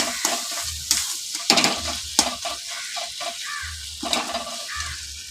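Onion and spices with turmeric being stir-fried in a pan, loud close sizzling with repeated scraping strokes of a spatula in an uneven rhythm.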